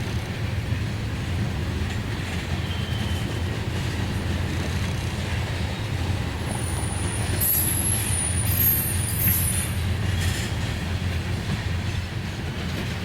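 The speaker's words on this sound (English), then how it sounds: "just raw Union Pacific power on a freight train is what counts" Union Pacific freight train with tank cars rolling past steadily at close range, a continuous low rumble of wheels and cars with faint high squeals, no talk.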